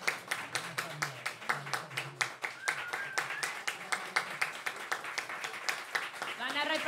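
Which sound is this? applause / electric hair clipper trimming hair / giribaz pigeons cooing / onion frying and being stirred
applause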